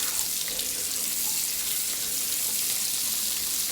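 Half an onion sizzles in hot oil in a pan while cooking Indian-style food, a loud, steady frying hiss that runs unbroken and with no voices.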